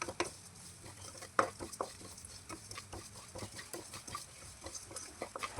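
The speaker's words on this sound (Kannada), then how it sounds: "ಇದು ಚೆನ್ನಾಗಿ ಫ್ರೈ ಆಗಬೇಕು, ಅಲ್ಲಿವರೆಗೂ ಇದನ್ನು ನಾನು ಚೆನ್ನಾಗಿ ಕೈಯಾಡಿಸ್ತಾ ಫ್ರೈ ಮಾಡ್ಕೊಳ್ತಾ ಇರ್ತೀನಿ." Masala spices stirred and dry-fried in a pan, soft scraping and tapping of a spatula in an irregular rhythm over a faint low sizzle, quiet and close.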